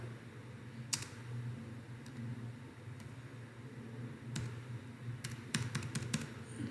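Keys tapped on a computer keyboard while tags are entered for an SEO infographic submission, heard as sparse, irregular clicks and short bursts over a steady low hum, fairly faint and close.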